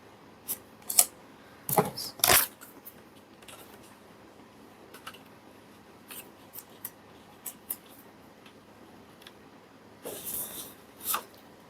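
Paper being cut with scissors for a Bible-themed junk journal, giving scattered sharp snips and crisp rustles at close range in an otherwise quiet space, with a louder cluster of cuts near the end.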